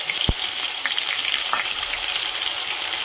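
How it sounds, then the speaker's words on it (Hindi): Ground onion paste frying in a pan over a high flame for egg curry, a steady close sizzle with a brief clink near the start and faint stirring scrapes throughout. "1 मिनट तक फ्राई होने देंगे। ज़्यादा फ्राई करेंगे नहीं, 1 मिनट तक ही फ्राई करेंगे और इसे हाई फ्लेम पर ही फ्राई करेंगे।"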